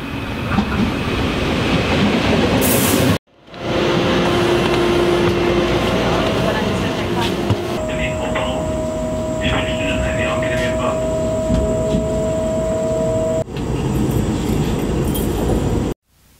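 A train travels from Munich station toward Augsburg with a continuous loud rumble of wheels and carriage noise, plus brief dropouts and some tonal whines, with voices faintly in the background.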